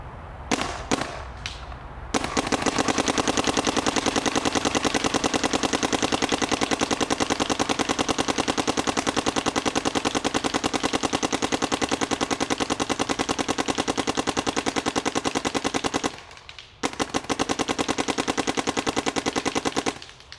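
A Dye DLS paintball marker fires brittle paint in a long rapid stream of sharp popping shots, loud and close, after a few single shots, with a brief pause before the stream resumes.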